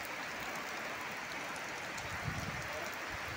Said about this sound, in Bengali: এই যে দেখা যাচ্ছে আমাদের গ্রামে অনেক বৃষ্টি হচ্ছে